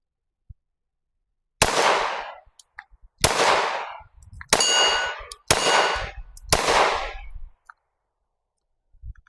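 Five loud, sharp shots ring out from a Glock 43X MOS compact pistol, spaced roughly a second apart, each with a metallic clang and a short ringing decay, in an otherwise quiet setting.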